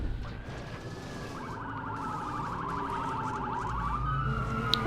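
A police car siren in the video game Watch Dogs wails in a fast warbling pattern for a few seconds, fairly faint and set against a busy rumbling city background.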